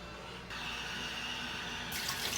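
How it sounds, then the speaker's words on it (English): Water runs into a bowl for washing sprouts, a soft steady rush that grows fuller and brighter partway through and again near the end. "So first what we're gonna do is put some water in here"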